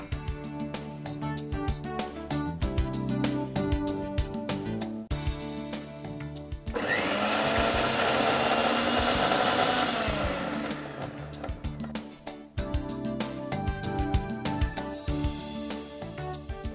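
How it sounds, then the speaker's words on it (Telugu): A mixer grinder grinding spices with salt whirs loudly in a few-second burst, surrounded by background music with a steady beat. "ఇది మిక్సీ పట్టేసుకోండి"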